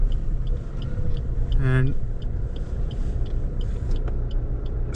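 A Suzuki S-Cross 1.6 diesel car pulls away in first gear, its steady engine rumble continuous throughout, with a voice speaking briefly over it and a short tonal sweep near the two-second mark.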